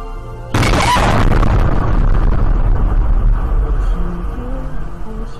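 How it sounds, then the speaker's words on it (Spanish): A gas leak explosion at a restaurant on the outskirts of Beijing sounds as a sudden loud boom, followed by a long, dense roaring rumble that slowly settles. "Una fuerte explosión causada por una fuga de gas tuvo lugar en un restaurante en las afueras de Pekín"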